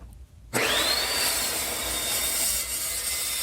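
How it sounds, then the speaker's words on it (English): Evolution chop saw slicing through metal trailer side pieces: after a brief quiet moment the blade bites in with a loud, sustained grinding whine that holds steady to the end. "Using this Evolution chop saw. It cuts through this stuff pretty good."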